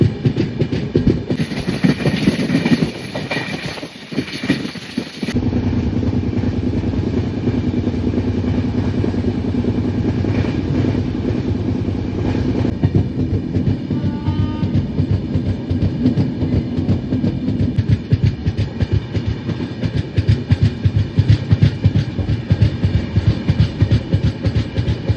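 The Grand Trunk Express passenger train runs along tracks in Telangana near Mancherial, giving a steady rumble with rhythmic clickety-clack wheel beats throughout and a brief hiss early on.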